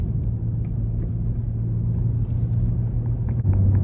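A BMW F30 sedan pulling away under hard throttle gives a deep, droning engine rumble with a steady low tone, heard from inside the car and rising slightly toward the end, with no talking over it.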